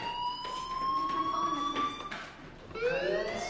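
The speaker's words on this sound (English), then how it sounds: "do you hear that fire alarm? That means you should be outside." Fire alarm ringing in a PS4 video game, a steady wailing tone that holds, fades briefly and resumes, fairly faint with low background noise and no talk.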